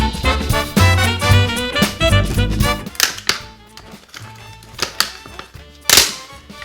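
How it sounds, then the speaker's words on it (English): Cheap, melted-shut plastic packaging for an N64-to-USB controller adapter cracks and snaps as it is pried open by hand, with sharp close clicks and taps in bursts and pauses. "Luckily the plastic's kind of crap, so it does just fall apart pretty easily."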